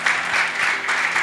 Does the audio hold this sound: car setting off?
no